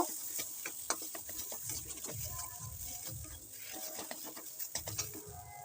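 Soft, steady scraping and clinking of a spoon mixing a thick potato filling with spices and coriander leaves in a pan, with irregular low thuds and light taps throughout.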